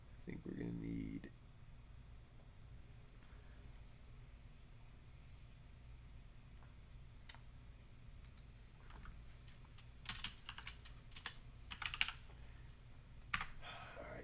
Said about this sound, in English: There's me clicking buttons.